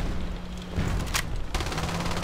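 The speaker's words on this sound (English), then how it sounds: "the bullet is supposed to explode at a close proximity" An XM-25 smart bullet explodes at close proximity: a sharp burst mid-clip amid dense, loud gunfire that runs throughout.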